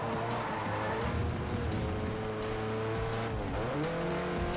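Racing game car engine in Forza Motorsport 4 overtaking a Vauxhall, a loud continuous engine drone with shifting pitch and a brief tire squeal, alone without talk.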